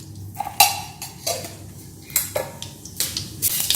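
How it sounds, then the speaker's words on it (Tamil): Mustard seeds splutter and pop in hot oil in a kadai, with sharp crackles and sputters scattered irregularly over a low sizzling bed, close and fairly loud. "கடுகு பொரிஞ்சிருச்சுங்க."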